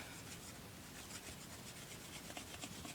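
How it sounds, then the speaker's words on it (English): Wood shavings are scraped off a primitive bow stave with a blade, producing faint, close, repeated rasping strokes in a steady rhythm. "we're taking shavings off"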